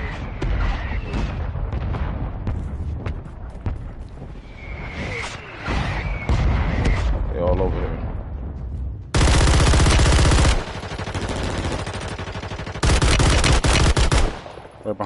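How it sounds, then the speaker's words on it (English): Bursts of automatic gunfire in Call of Duty Warzone Resurgence, loud and rapid, arriving in several sustained volleys over game ambience and distant shots. "Shooting, somebody shooting."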